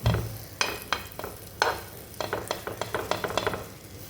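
Batter dropped into hot oil in a pan for aloo kurkura, giving a steady close sizzle with irregular clinks and scraping bursts of spoon or spatula work, no talking.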